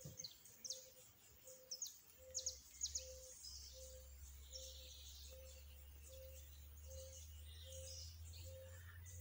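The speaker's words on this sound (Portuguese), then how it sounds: "só escuta as aves cantando" Birds chirp and twitter in quick bursts near the start, while a steady, evenly spaced call repeats and insects hum softly throughout a quiet setting among buriti palms.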